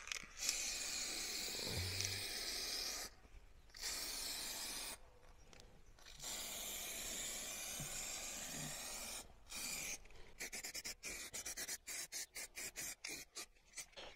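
A spray can of neoprene contact glue hisses steadily as the adhesive is applied into grooves on a car part of an Audi 80, in long close bursts and then a run of short rapid spurts, with no talk.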